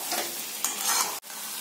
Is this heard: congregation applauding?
no